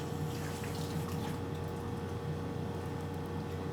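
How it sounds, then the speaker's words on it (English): A tap runs steadily as hands are rinsed under it, giving a continuous close rush of water that softens slightly partway through, with no voices. "And let me rinse off my hand."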